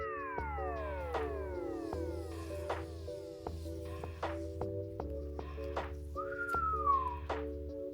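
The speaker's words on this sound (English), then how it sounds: "Whistle, whistle." Whistling in sliding, siren-like tones with steady held pitches and a low drone, ending in a brief rising whistle; no one speaks.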